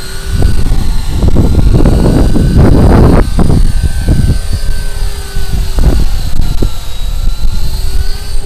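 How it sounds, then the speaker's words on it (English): A Walkera Lama 3 RC helicopter flies outdoors on a windy day, its steady whining rotor drone loud and close throughout, with bursts of wind buffeting the microphone in the first half. "It's a beautiful helicopter,"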